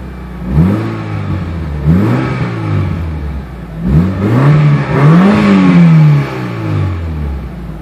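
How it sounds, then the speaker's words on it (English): A Mitsubishi Lancer Evolution 9 with a full titanium oval cat-back exhaust revs several times from idle, each blip rising sharply and falling back, the last ones held longer and louder, heard close from outside. "I'll rev this up a little bit."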